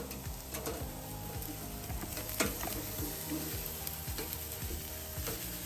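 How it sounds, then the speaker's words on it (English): Steaks sizzling and crackling over a cherry wood fire on a grill, a steady close hiss with scattered pops and snaps throughout, no talking. "I'm using cherry wood to grill my steaks."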